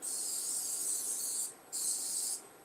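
Cooking spray hisses onto a heating pan in two bursts, a long spray and then a shorter one after a brief pause, with no talking.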